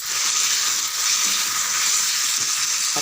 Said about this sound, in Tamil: ஒரு 5 நிமிஷம் நல்லா தக்காளி வதங்கிடும்.